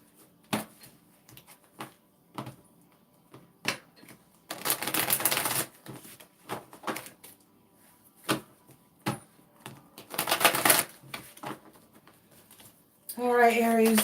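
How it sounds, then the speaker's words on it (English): Bursts of rapid riffling as playing cards are shuffled, mixed with scattered taps and clicks; a voice comes in briefly at the end. "I can freely shuffle this deck."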